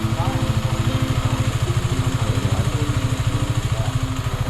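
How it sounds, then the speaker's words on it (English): A motorcycle engine chugs steadily up close, its low, rapid pulsing even and unbroken as the bike is ridden through. "Oh, she wants you to take the motorcycle through that."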